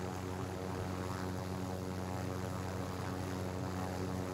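Helicopter in the video game Call of Duty Warzone, a steady droning engine and rotor hum that holds constant and loud throughout with no talk.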